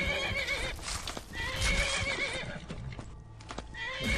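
A horse in the Skyrim video game whinnies loudly and clearly while its hooves clip-clop underneath, a busy, close mix of neighing and hoofbeats with no one talking.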